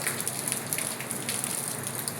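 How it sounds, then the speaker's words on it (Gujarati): Rain falls steadily outdoors, a dense even patter of drops striking surfaces with a continuous hiss and no voices. "તો આપણે મસ્ત વરસાદ ચાલુ થઈ ગયો છે, તમે જોઈ શકશો મિત્રો."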